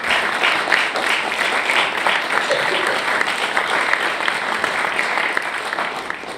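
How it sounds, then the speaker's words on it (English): A graduation ceremony audience in Paris applauds graduates' family members, with sustained, full clapping from a large crowd filling the room, steady and loud throughout with no talk. "we should all applaud them"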